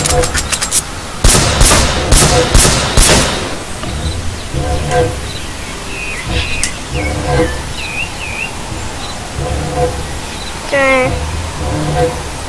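Shotgun blasts in the Zombie TS video game, a rapid cluster of loud booming shots in the opening seconds, followed by scattered game effects, chirps and voices talking throughout.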